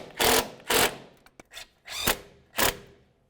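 Wheel hub bolts are tightened on a 2002-2006 Honda CR-V with a ratchet, giving several short, crisp rasping bursts with small clicks in between, close and fairly quiet.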